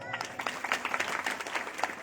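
A crowd at a Narmada Purana sermon claps for the walking pilgrims, with many sharp hand claps in an uneven, moderately quiet patter while a voice speaks over it.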